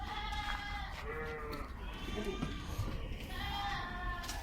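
Goats bleat at a livestock market in Riyadh, Saudi Arabia, several wavering calls near and farther off amid crowd murmur and background noise.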